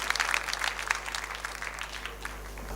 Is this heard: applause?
yes